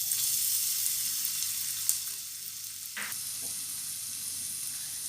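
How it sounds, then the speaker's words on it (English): Finely chopped ginger and garlic sizzling in a little hot oil for Schezwan sauce, a steady bright hiss with a brief clatter of stirring partway through. "Now add finely chopped ginger and garlic."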